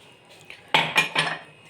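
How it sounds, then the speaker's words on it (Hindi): Dishes and cutlery are gathered up outdoors to be carried inside, making three quick, bright clinks and clatters close by after a brief quiet moment. "तो अब उठाती हूँ और अंदर रखती हूँ बर्तन वगैरह"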